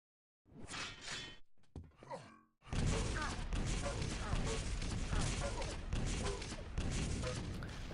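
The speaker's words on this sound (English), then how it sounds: "That's a barrage of rockets." A barrage of rockets exploding in the fighting game DNF Duel, a short rumbling burst followed by a dense, continuous wall of blasts and impacts.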